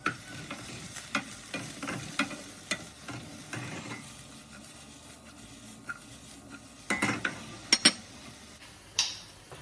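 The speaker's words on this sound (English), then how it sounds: "we're gonna saute this for, I don't know, 5, 7, 8 minutes" Vegetables sautéing in a pan at a low simmer, with a soft sizzle beneath scattered clinks and scrapes of a utensil against the cookware, a few sharper knocks near the end.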